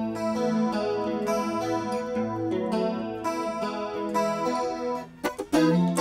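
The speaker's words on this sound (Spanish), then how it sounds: "encontré un preset que se llama Deep Chorus. O sea, es un chorus." Guitar through a Valhalla Space Modulator plugin on a deep chorus preset in doubler mode, sustained shimmering chords with a wide wavering sheen, ending in a few sharp strums; no talking.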